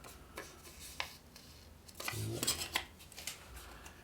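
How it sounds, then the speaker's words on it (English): Scissors snip out a paper cucumber in a few short, light cuts with faint crisp paper rustling between them. The sound is close and quiet, with no talking. "maybe I will use some scissors. I'll just cut out a cucumber."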